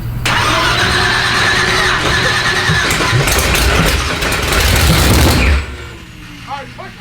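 A procharged LS V8 engine making about 1500 hp cranks and fires up loudly close by, roaring and running rough for several seconds before cutting back sharply, with voices faintly underneath.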